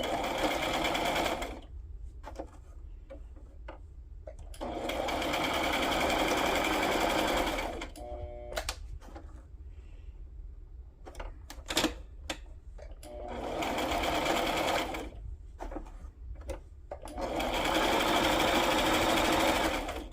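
Sewing machine stitching a wax paper journal pouch in pink thread, running in several close, steady bursts separated by pauses with small handling clicks.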